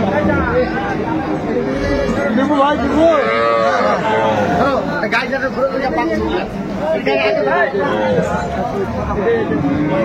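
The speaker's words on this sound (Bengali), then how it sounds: "চমৎকার গাভী বাছুর আমরা দেখছিলাম এখানে" Cows and calves mooing loudly and repeatedly at a busy rural cattle market, the long lowing calls rising over constant crowd chatter and nearby talk.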